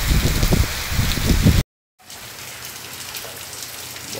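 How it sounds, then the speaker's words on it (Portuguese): Rain falling on a sunny afternoon in the sertão at Quixadá, Ceará, Brazil, a steady broadband patter throughout, louder at first with a brief dropout midway, then continuing more softly. "A chapada tá toda coberta já pela chuva."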